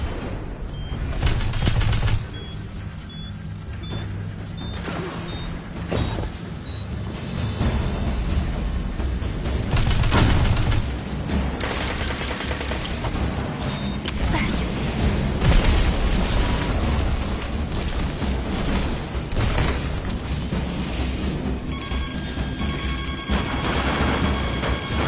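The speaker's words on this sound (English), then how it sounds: "Explosions can be so beautiful." Loud, sustained crashing blasts and booming explosions in a video game roll on continuously, with rumbling impacts layered throughout and no talking.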